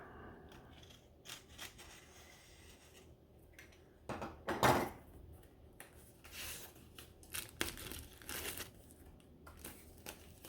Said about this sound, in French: On va ouvrir le paquet pour découvrir le vinyle à l'intérieur.